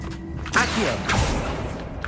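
A magical Accio summoning spell cast in the game Hogwarts Legacy: a swelling whoosh with a creaky, mechanical shimmer, rising twice in close succession over a steady background hum.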